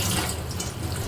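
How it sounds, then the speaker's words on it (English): Hot water is poured in a continuous splashing stream over a fish before steaming, a steady moderate rush with no voices. "it is a good practice to pour some hot water onto the fish"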